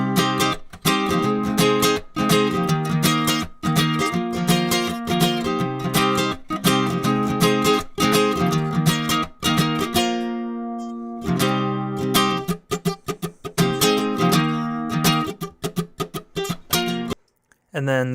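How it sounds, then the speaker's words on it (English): A vintage classical guitar is strummed in a lo-fi style, with full chords struck in a steady, rhythmic pattern, close and loud, pausing briefly before resuming. "And I recorded my vintage classical guitar."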